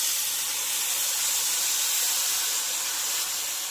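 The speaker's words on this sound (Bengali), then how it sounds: "এই তেঁতুল জল দিয়ে দিলাম" Tamarind water hits a hot pan for a tangy fish curry, giving a loud, steady hiss of steam and sizzle that holds evenly for a few seconds.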